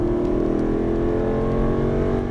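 An Aston Martin V8 race car holds full throttle, a loud, close and steady engine roar with a rich, constant rumble and no break across the short burst.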